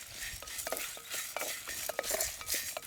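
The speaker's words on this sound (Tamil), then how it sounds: "இந்த உளுந்து பருப்பு இதெல்லாம் பார்த்தீங்கன்னா கருக்காமல் வறுத்து எடுத்துக்கலாம்" Urad dal and chana dal stirred and dry-roasted in a pan with curry leaves, a steady close scraping and light rattling of lentils against the metal with a soft sizzle throughout.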